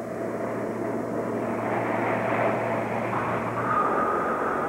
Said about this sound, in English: The sound of jet engines and the thump of the world's largest skis